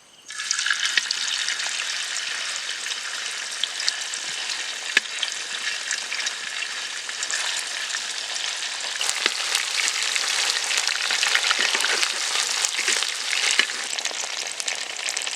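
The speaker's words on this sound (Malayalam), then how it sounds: "അപ്പം നമുക്കിനി ഇതൊന്ന് ഫ്രൈ ചെയ്തെടുക്കാം." Chicken coated in ginger garlic paste, with fennel seeds and curry leaves, frying in hot oil: a steady, dense sizzle that holds loud and close throughout, with small crackles and the occasional clink of stirring, and no talking.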